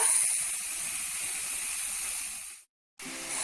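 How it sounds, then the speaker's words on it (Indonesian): Loud, steady sizzling hiss of minced chicken stir-frying over high heat in a hot pan, broken by a brief moment of silence before the sizzle resumes. "Kita tumis hingga berubah warna. Masak dengan api besar."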